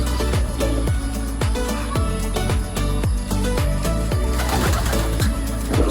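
Domestic pigeons kept as natural pairs of siblings in a colony breeding loft coo in layered, rhythmic pulses, several birds close by and fairly loud, with no talk.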